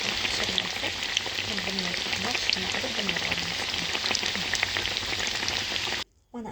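Chicken cutlets fry in a pan with a steady, dense sizzle and crackle that holds at an even loudness, then cuts off briefly near the end.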